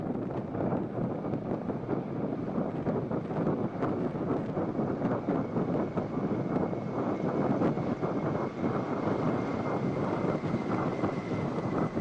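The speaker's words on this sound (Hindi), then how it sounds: "अब आ रहे हैं कमाओ 2831 ईगल हेलीकॉप्टर्स।" Kamov 28/31 naval helicopters fly past in arrowhead formation at a naval fleet review, a steady broadband rotor and wind roar that stays loud and continuous throughout with no talk.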